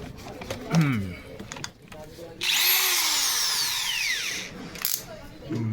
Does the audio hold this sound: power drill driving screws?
yes